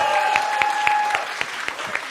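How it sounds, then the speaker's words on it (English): Audience applause for Daniel Miller of Depeche Mode at a Paris press conference, a steady wash of many hands with a few sharper claps standing out, fairly close and continuous, with a faint tonal hum running underneath. "let's give him a round of applause"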